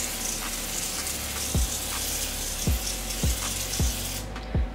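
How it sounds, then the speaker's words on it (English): Non-stick cooking oil sprays into a baking pan as a soft, steady hiss, cut by several short sharp bursts in an uneven rhythm near the end. "oh, we have to spray this first. Right here, we got non-stick oil."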